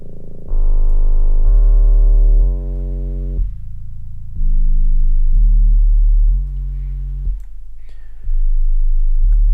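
Sine tones run through an Airwindows plugin applying asymmetrical distortion, giving loud, buzzy, harmonic-rich steady notes that step between a few pitches in sustained blocks, with short gaps and clicks between them.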